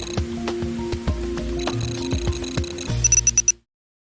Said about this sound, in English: I have this Lumi alarm clock. It's actually like a sunrise alarm clock